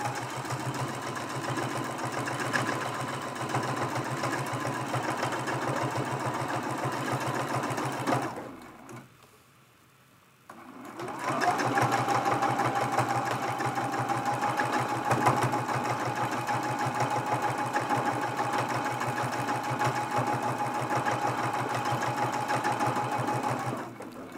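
A domestic sewing machine quilting a small fabric mug rug hums loudly and steadily up close, with a brief stop in the middle before the stitching resumes at the same pace.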